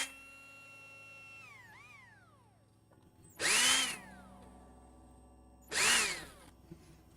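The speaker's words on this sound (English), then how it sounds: "I'm just gonna drill a new hole" A power drill bores a new hole in a guitar body for a tremolo stabilizer: the motor winds down, then two loud, short bursts of drilling into wood, close up with no talking.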